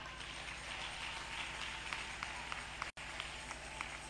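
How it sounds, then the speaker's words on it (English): An audience at a preacher kids' grand finale ceremony claps continuously, faint and distant, as a soft, even patter with a few slightly sharper claps. "Oh, please keep clapping."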